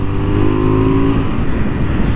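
Exhaust of a KTM 990 Duke motorcycle idling and blipping, a loud close rumble with a rising tone that settles back to a steady throb, with no talk.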